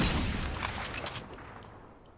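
Sniper gunfire in a large video game battle: a loud burst of shots right at the start, then a tail of booming echo that fades over about two seconds.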